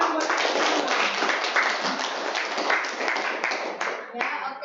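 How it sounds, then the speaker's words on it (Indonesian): Students in an Indonesian classroom clap their hands together, a brisk scattered patter of many hands lasting several seconds, close and lively, with a few voices mixed in. "tepuk tangan buat semua"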